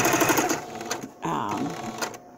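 A sewing machine re-stitching a fabric face mask runs in close, rapid bursts of stitching, with a short pause partway through.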